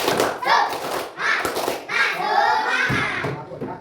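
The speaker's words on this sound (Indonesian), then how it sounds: "Coba KM pimpin tepuk semangat" A school class claps a rhythmic 'tepuk semangat' chant led by the class leader, with children's voices chanting in time and uneven clap and thump bursts spread over a few seconds.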